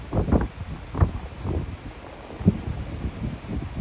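Strong wind of about 40 mph at an outdoor 200-yard benchrest shooting range buffets the microphone in low, uneven gusts and rumbles, fairly loud and close, without any speech.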